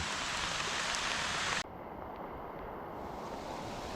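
Heavy tropical rain falls as a dense, even hiss. It drops sharply in level partway through and then carries on steadily and more muffled, with no voices.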